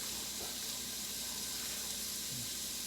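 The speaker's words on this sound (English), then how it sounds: "You can hear it sizzling and cracking and" Carrots, onions, garlic and squash sizzle in a hot pan, giving a steady, continuous hiss with faint crackles throughout.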